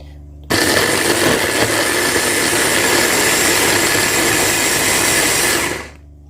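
A blender whirs loudly and steadily for several seconds blending peppers, garlic, onion and tomatoes, starting abruptly and then winding down at the end, with no voices.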